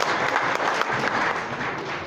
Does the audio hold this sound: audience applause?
yes